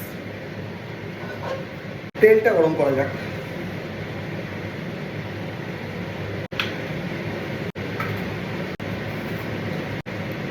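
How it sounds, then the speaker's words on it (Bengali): A kitchen chimney exhaust hood fan runs with a steady, even whooshing drone that lasts throughout, while a person talks over it and a brief clatter sounds near the beginning. "চিমনিটা স্টার্ট করি"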